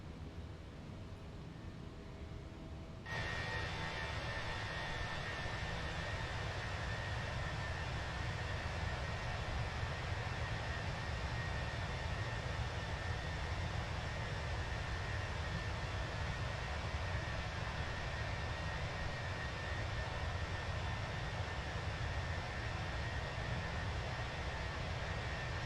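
A Fenix A321 jetliner climbing out of London Heathrow in a flight simulator produces a steady, loud cockpit engine roar that steps up sharply a few seconds in and then holds an even, broadband drone with a faint tonal hum.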